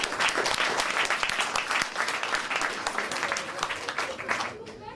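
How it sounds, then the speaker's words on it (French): An audience at a free-speech conference applauds steadily for about five seconds, dense clapping from a crowd that stays loud and even before thinning out abruptly at the end. "interviendra Philippe Carsanti, qu'on peut applaudir"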